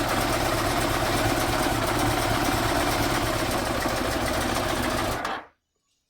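A Yamaha FZR1000 motorcycle engine idles steadily on choke with a fast, even, buzzy pulse at close range, then cuts out abruptly into silence near the end.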